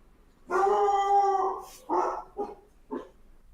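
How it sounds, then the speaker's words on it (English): A dog in an apartment building lets out a long, loud howl, followed by three shorter barks, clear and close with no talking. "I thought there was a dog"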